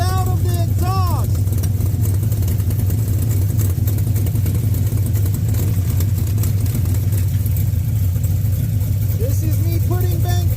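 Car engine running steadily with the bank 2 O2 sensor pulled out of the exhaust, a loud continuous low rumble close by, with a person talking over it.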